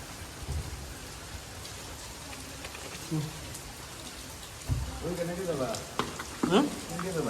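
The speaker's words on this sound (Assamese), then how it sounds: "বাহিৰত আপোনালোকৰ বৰষুণ কমাই নাই" Steady rain patters and hisses outdoors in Cherrapunji, fairly soft, with a few heavier drops and voices talking in the later part.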